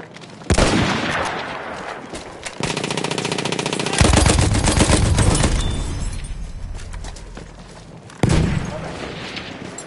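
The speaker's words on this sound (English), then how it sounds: "Machine gun over there!" Rapid machine gun fire in a video game battle over an objective, bursts of dense, loud gunshots with booms and explosions mixed in, under excited shouting voices.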